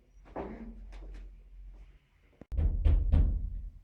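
Knocking at a door during a staging of Macbeth, Act 2 Scene 2: a few dull knocks, a pause, then one sharp rap followed by a louder cluster of thuds, close and alone with no talk.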